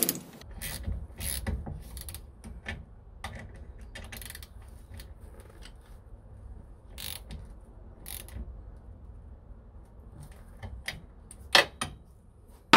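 A wrench tightens a car's suspension wishbone bolt while the other side is held, producing scattered metallic ratcheting clicks and creaks with quiet gaps between them and a sharper pair near the end, close and without speech.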